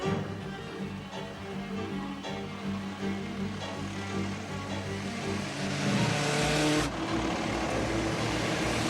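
A car engine revs hard and roars past in a fast chase on a road, loud and steady with a rising surge of tyre and engine noise near the end.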